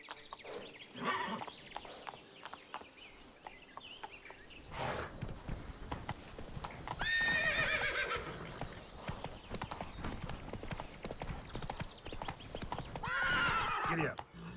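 Horse hooves clip-clopping in The Witcher 3: Blood & Wine, with whinnies and neighs breaking through around the middle and near the end, set among game ambience and brief bursts of a voice.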